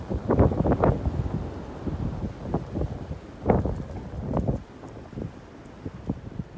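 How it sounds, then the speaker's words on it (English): Strong offshore wind blows across frozen Lake Simcoe off Big Bay Point, buffeting the microphone in loud, uneven low gusts that rise and fall. "The wind's blowing really hard offshore, and it just opened up right off the point"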